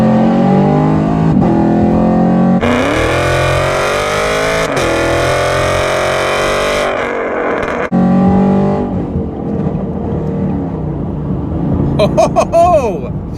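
Tuned, cammed Chevy Camaro SS with an 8-speed, modified, revving hard under acceleration in track mode, a loud, sustained engine roar climbing through gears with brief shift breaks, and a voice talking over it near the end.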